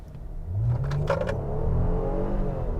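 A 2022 Nissan Pathfinder with a naturally aspirated V6 and 9-speed automatic accelerates hard from a stop in sport mode, with a steady, loud engine drone that rises in pitch as it pulls, heard from inside the cabin with no talking.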